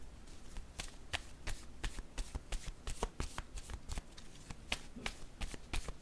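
Oracle cards being shuffled close by, a steady run of crisp riffling slaps and flicks in quick irregular rhythm, fairly quiet with no talking.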